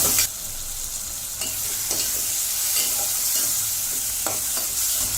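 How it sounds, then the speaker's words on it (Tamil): Tomatoes sauté in a pan for prawn kurma, giving a steady close sizzle with occasional scraping stirs of a spoon against the pan and no talking. "தக்காளி நல்லா வதங்கட்டும்."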